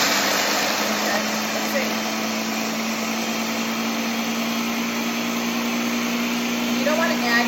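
A countertop blender grinds peanuts into peanut butter, a loud, steady motor whine with a constant hum that runs throughout, briefly under a few spoken words at the start.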